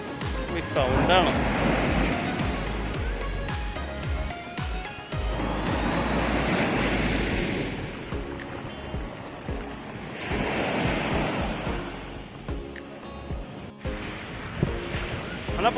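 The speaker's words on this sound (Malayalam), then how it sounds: "കടൽ തീരത്ത് വന്ന് നിൽക്കുമ്പോൾ കടലിലെ ആ ഇരമ്പലും" Surf rolls in at Arthunkal beach in repeated roaring surges, each wave swelling and fading over several seconds, close and loud, with wind noise on the microphone.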